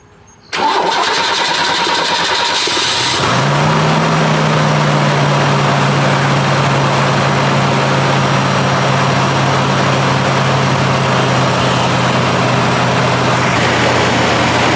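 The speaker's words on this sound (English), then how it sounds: "Let's see if she fires up." A GMC Syclone truck with a low battery cranks for a few seconds, then its engine catches and settles into a steady, close, loud idle that runs on alone with no talking.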